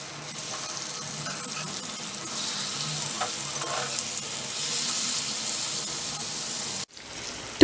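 Tandoori chicken fries in a pan on a stove over a medium flame with a steady close sizzle. A few soft scrapes come as the pieces are turned, then a sharp clatter at the end, with no talking.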